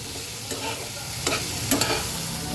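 A spice mixture of ground coriander, cumin and salt is stirred and fried in a pan for a mustard paturi made with pumpkin-leaf shoots. There is a steady sizzle throughout, with a few brief scraping stirs and no talk.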